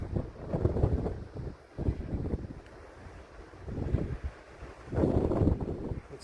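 Gusty wind buffets the microphone on the Monadnock-Sunapee Greenway hiking trail, coming in loud, rumbling surges of about a second each with quieter lulls between, and no talking.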